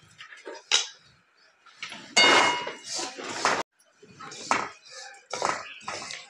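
Fenugreek, nigella, carom and coriander seeds dry-roast in a pan over low heat, with a spoon clinking and scraping against the metal in short, irregular bursts close by.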